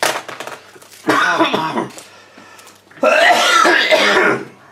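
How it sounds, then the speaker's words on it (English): Several harsh coughs and throat-clearing bursts, close and loud, in two main fits separated by quieter rustling. "the coughing is going to continue, folks"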